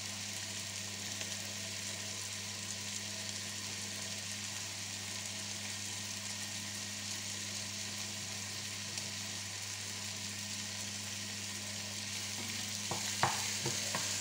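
Onions and garlic fry in a pressure cooker pot, giving a steady, soft sizzle throughout with occasional stirring scrapes near the end.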